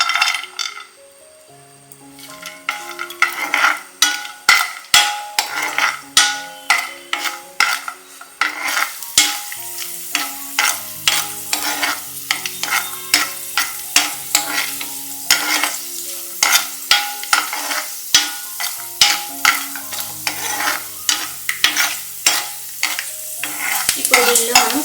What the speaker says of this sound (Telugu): క్యాష్యూ వేసి వేయించుకోవాలి.